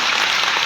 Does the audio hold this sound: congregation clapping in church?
yes